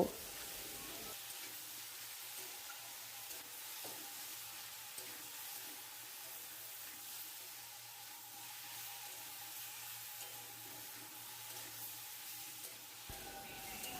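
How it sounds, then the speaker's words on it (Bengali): Chopped bottle gourd and potato with turmeric and salt being sautéed in a pan, a faint steady sizzle running throughout at low volume with no talking. "লাউ আর আলুটা আরও একটু কষিয়ে নেব"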